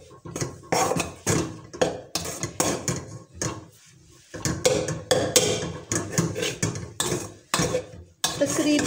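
Maize flour dough being stirred and worked with a spoon in a bowl while making makki ki roti, giving a steady run of close scraping, knocking clatters in short repeated bursts with brief pauses.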